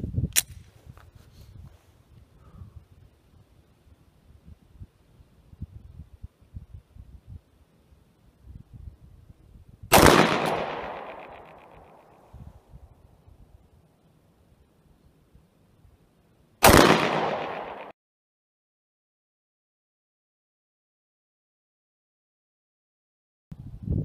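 A Wilson Combat custom Glock 19 Gen 5 fires Atlanta Arms 115 grain full metal jacket rounds outdoors at a range. A few sharp, loud single shots come seconds apart, each followed by a fading echo.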